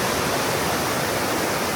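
Constant rushing water near a waterfall on a family trip around Pokhara, Baglung, Gulmi and Galkot in Nepal, a dense, even roar with no breaks and no voices.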